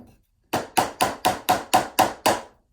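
A hammer taps wooden canvas stretcher bars together in seven evenly spaced, sharp knocks, close and clear with nothing else heard.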